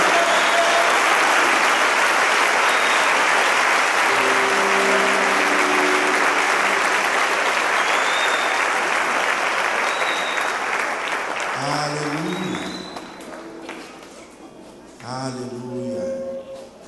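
A church congregation applauds loudly and steadily, the clapping tapering off near the end as a sung or spoken voice and music rise over it.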